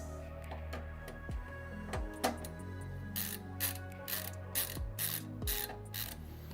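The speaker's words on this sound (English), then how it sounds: "I'm going to go ahead and remove it. 4 screws for that." Screws being unscrewed to free an SSD tray from an Antec Flux M PC case, giving repeated ratcheting, ticking mechanical clicks close up. The clicks come in bursts over a steady low hum, with no talk.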